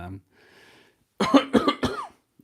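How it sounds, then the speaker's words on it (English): Three quick, harsh coughs in a row, close and fairly loud, following a brief quiet stretch. "cough, cough, excuse me"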